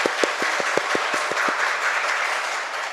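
Church congregation applauding during a spring revival service, a sparse run of individual claps at a steady rhythm over a diffuse room wash, easing off after about a second and a half.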